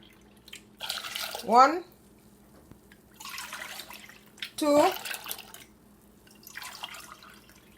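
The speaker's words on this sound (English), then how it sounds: "I'm going to add some water to this" Water poured from a cup into mauby drink ingredients: two short splashing pours about three seconds apart, close and moderately loud, with a voice counting between them.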